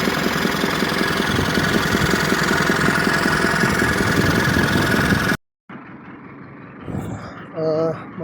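A telescopic loader's engine, newly installed, runs steadily and loud with a dense rumbling drone for about five seconds, then cuts off abruptly, leaving quieter background noise with brief tonal sounds and faint voices.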